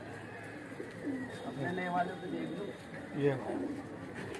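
A Hyderabadi pigeon coos in soft, repeated bursts close by, with someone talking over it on a rooftop.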